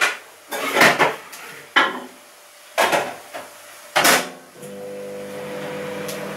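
Microwave oven heating a bowl of rice splashed with water, its steady hum starting partway through after a few clattering kitchen knocks and clicks of dishes and a door.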